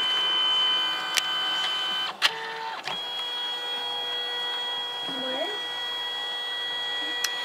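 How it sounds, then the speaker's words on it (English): A Canon Selphy CP910 compact photo printer runs with a steady mechanical whir, with a few clicks and clunks as the paper feeds and shifts, heard close by and alone. "Here, I'll zoom back out so you can see it printing."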